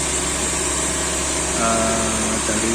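A Ford EcoSport engine is held at about 2000 RPM, giving a loud, steady hum with a slight rise in pitch partway through.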